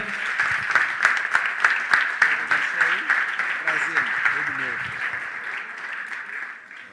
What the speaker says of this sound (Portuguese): Queria que você desse um aplauso a Jesus pela vida do pastor.